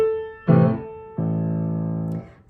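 Piano plays the last two bars of a beginner adult piece, with the left hand part sounding clearly and near: a struck chord rings and fades, then a second sustained chord holds before decaying, with no talking.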